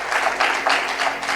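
Loud, rhythmic clapping from a congregation during a church sermon, with claps landing together in regular bursts about every third of a second, close and energetic throughout the short stretch, with no voice over it.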